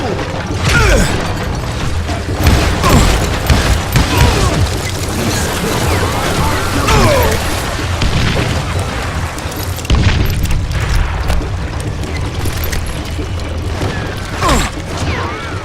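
Call of Juarez: Gunslinger gunfight with repeated loud gunshots and booming explosions crowding together in a dense, chaotic barrage, near and heavy, with some game voices mixed in.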